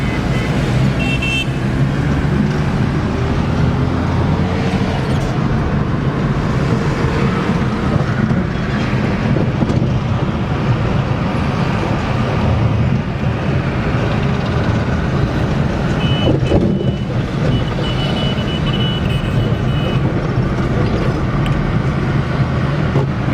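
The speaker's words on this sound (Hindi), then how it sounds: "अभी गाड़ी पेट्रोल पे चल रही है" Petrol-powered Suzuki Liana car running steadily, a continuous low engine hum with road noise throughout, with faint beeps and traffic sounds around it.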